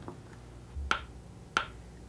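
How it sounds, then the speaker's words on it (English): Two sharp, isolated claps ring out close and fairly quiet, spaced about two-thirds of a second apart, marking a practice rhythm for a piano lesson. "we're clapping where we'll eventually be playing"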